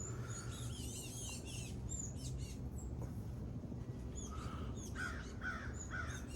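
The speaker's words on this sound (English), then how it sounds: "And the crows, which I guess are technically birds." Several crows caw in short harsh calls at a distance, with other birds chirping over steady outdoor ambient noise.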